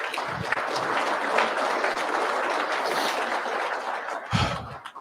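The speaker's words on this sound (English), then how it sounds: "So give yourself a hand clap today." A room full of people applauds at a church leadership meeting, a dense, continuous patter of clapping hands that swells slightly and carries on for several seconds with a brief low thump near the end.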